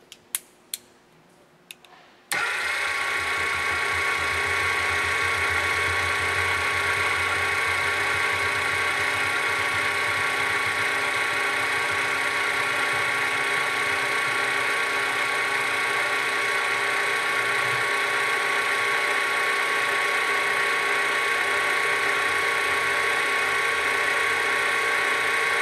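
A ServoCity linear actuator drives its rod all the way out toward the limit switch, beginning with a few sharp clicks, then a loud steady electric motor whine and gear buzz that holds without a break.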